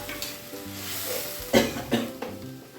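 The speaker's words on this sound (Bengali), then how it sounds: "সর্ষে আর কাঁচা লঙ্কা দিয়ে একটু নুন দিয়ে বেটে এতে জল দিয়ে এবার জলটা আমি দিয়ে দিচ্ছি" Water hits a hot pan holding ground mustard and green chilli paste for a Bengali bason bora jhal, bursting into a loud hiss with a couple of sputtering surges, then settling into a low sizzle under stirring.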